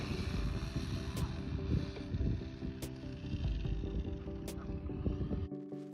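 A stock HBX 16890A 1/16 scale brushless RC car fitted with bigger tires and running on a 2S battery drives past with a steady electric motor whine and rough rolling noise. The sound cuts off abruptly at the end.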